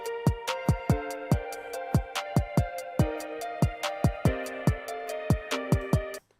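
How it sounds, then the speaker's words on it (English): A full drum pattern loop programmed in FL Studio 20 plays at a steady tempo, sharp repeated hits with ringing tonal decays in a tight rhythmic cycle before cutting off abruptly. "we have a full-on drum pattern with this loop"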